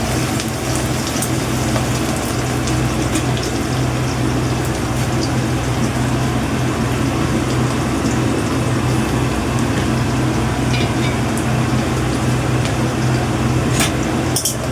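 Onion frying lightly in a pan, a continuous even sizzle and crackle with scattered small pops throughout and no talking.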